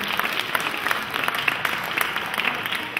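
Audience applause at a Christmas market show, a continuous, fairly close burst of clapping with no pauses.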